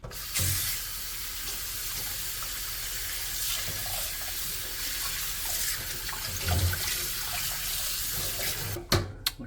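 A kitchen tap runs steadily into a sink while cuttlefish caught by fishing is cleaned, a close, constant splashing hiss with occasional bumps and handling clatter near the end, and no talking.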